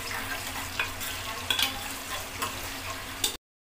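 Finely chopped onions and garam masala sizzle and fry steadily in a pan, with a spoon stirring and scraping against the metal at intervals, close and with no talking.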